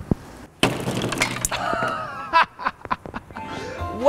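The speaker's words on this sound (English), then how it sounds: "I'm gonna smash this on the table." A pumpkin pie frozen solid in liquid nitrogen is smashed on a table, giving a sharp, loud shattering crack followed by scattered crunchy bits clattering, with laughter and chatter around it.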